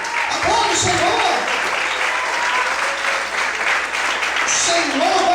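A church congregation applauds loudly during a Portuguese-language sermon, a dense, sustained burst of clapping with voices calling out and cheering over it throughout.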